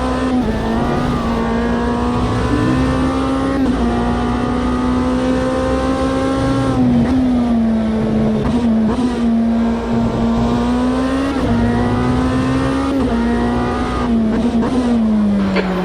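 A Lamborghini race car in the Automobilista 2 racing sim roars steadily and loudly, its engine note rising and dipping through gear changes and throttle shifts without pause.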